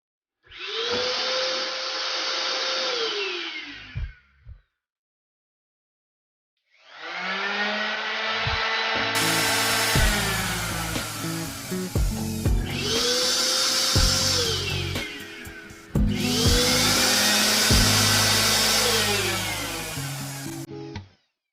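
A loud 600 W Lotus portable electric paint sprayer whines and hums in several runs, cutting off and restarting, its motor pitch dipping and rising, with no talking.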